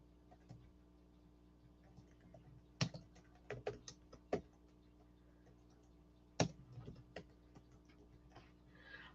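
Sparse, irregular clicks of keys being tapped on a keyboard, a few sharper strokes among softer ones, close and quiet over a low steady hum.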